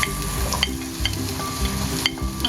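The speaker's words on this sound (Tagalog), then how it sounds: "magigisa na tayo ngayon, guys, ng ating mga ingredients. Unahin natin ang ating garlic and sibuyas and onion" Garlic and onion sauté in a Saladmaster pan, a close, steady sizzle broken by rhythmic scraping and knocking strokes of a spoon, with no talking.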